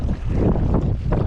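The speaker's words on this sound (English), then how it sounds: "this wind is going to make it really difficult" Strong wind buffets the microphone on an open lagoon shoreline, a loud, continuous low rumble with gusting swells and no voices.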